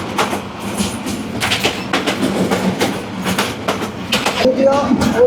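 Agnibina Express running from Mymensingh to Dhaka, heard from inside a shaking coach: rapid clickety-clack bursts of wheels over rail joints, rattling carriage noise, and a brief squeal near the end.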